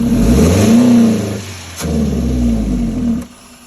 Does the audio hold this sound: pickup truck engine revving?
yes